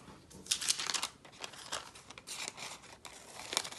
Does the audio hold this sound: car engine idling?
no